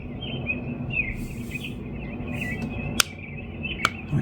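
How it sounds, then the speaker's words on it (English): Bright, thin bird chirps flutter over a soft background hiss, with two sharp clicks near the end. "The birds chirping."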